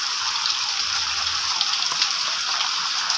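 Rain falls steadily on a home vegetable garden, a dense continuous hiss of drops close to the microphone, with no talk.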